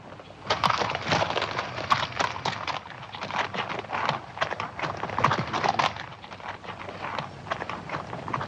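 Horse hooves clip-clop steadily in a brisk, uneven rhythm on hard ground, close by and fairly loud, with no voices.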